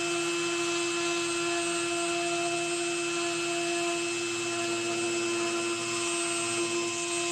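A rotary carving tool fitted with a small burr whines steadily and loudly throughout, a continuous high-pitched spinning tone with no pauses and no voices.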